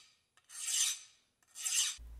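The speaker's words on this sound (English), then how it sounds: "Then on to the sacred ritual of deburring." Two slow, close rasping strokes of a hand file deburring a small machined metal part for a die filer, each a smooth hiss rising and fading, separated by a short pause.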